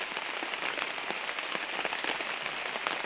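Steady light rain falls outdoors in misty mountain air, a dense even patter of drops hitting surfaces with occasional slightly louder taps, no one talking.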